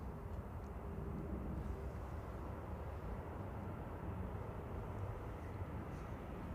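Faint, steady jet roar from a DHL Boeing 767 passing overhead near Manchester Airport, a distant broadband rumble with no distinct peaks.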